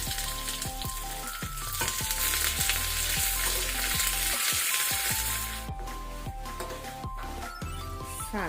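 Mustard seeds, broken dry red chili and curry leaves crackle and sizzle in hot oil for a South Indian tempering, with a loud, dense frying hiss broken by sharp popping crackles throughout.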